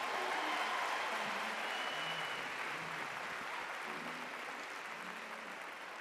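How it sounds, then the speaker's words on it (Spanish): Audience applauds at a live Christian concert; a broad wash of clapping starts strong and slowly fades in volume, with faint voices murmuring underneath. "Yo creo que todos merecen un gran aplauso."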